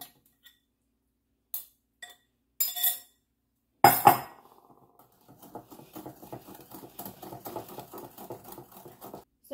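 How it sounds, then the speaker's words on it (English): Milk being whisked into thick cauldron cake batter in a bowl: after a few scattered knocks and a sharp clank, a light, rapid, continuous ticking and tapping settles in, quiet and close. "you're going to whisk in your milk. It should be nice and thick by now."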